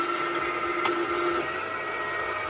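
A powered cutting tool slices through a part for a Volkswagen 2021cc stroker engine build, giving a steady high-pitched whine and grinding hiss that holds briefly with a tonal edge, then eases slightly toward the end.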